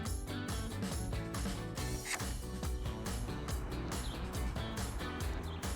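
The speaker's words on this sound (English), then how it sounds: "you're going to attach the center base to your receiver hitch with a 9/16 inch ratchet" A 9/16 inch ratchet clicks rapidly and repeatedly as it tightens a towing mud flap base onto a receiver hitch, a close, steady series of pawl ticks in short strokes.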